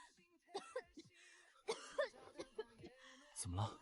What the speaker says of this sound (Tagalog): Ubo ubo ubo.